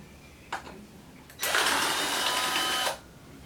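A power screwdriver drives screws into a Panasonic RX-FW38 stereo under repair. A faint click comes first, then one close, steady whirring burst lasts about one and a half seconds before stopping.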